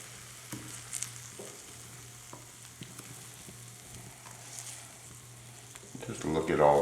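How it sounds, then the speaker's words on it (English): Brown sugar roasted carrots with cinnamon being stirred in a pan, giving soft scraping and a low sizzle with occasional clinks, close and quiet, building into louder stirring at the end. "we're going to give these a good stir"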